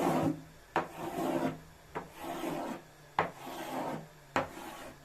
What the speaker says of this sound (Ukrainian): Я ріжу на ось такі смужечки.